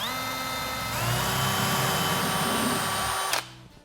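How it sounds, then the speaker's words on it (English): A power drill whines at high speed while pre-drilling wood for cabinet assembly, its pitch dropping as it bites into the wood, then cuts off abruptly near the end. "So we take our drill gun."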